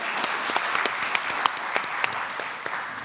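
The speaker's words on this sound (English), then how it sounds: "All right, let's give our candidates a big round of applause." Audience applause for candidates at the close of a Denver clerk and recorder candidate forum, a steady dense clapping from a room of people, fairly loud and continuous with a few sharper individual claps standing out.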